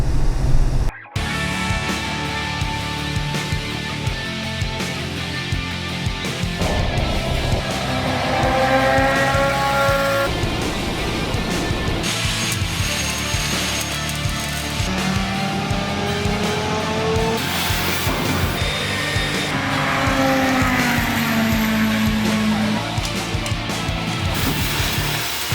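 Interior of a moving car, the Bruisemobile, with a steady engine and road drone throughout, shifting tones as the engine changes speed, and no talk.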